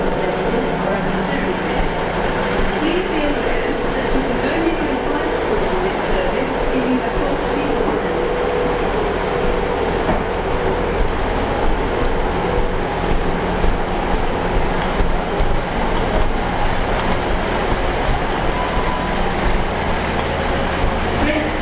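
A Great Western Railway train stands at a station platform, its engine and air-conditioning humming steadily and close by, with announcement-like speech over the top throughout.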